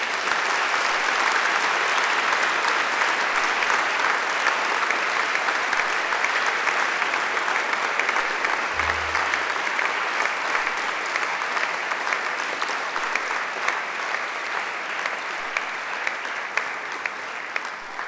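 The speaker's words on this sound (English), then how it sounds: "And now I invite you to give them a mighty round of applause." Sustained audience applause at a Macquarie University graduation ceremony, a large crowd clapping steadily and evenly for the full length, dense and unbroken.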